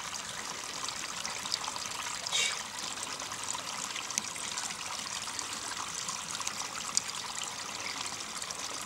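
Mountain spring water at Mule Springs trickles steadily over rock outdoors, a soft continuous dribbling wash with no voices.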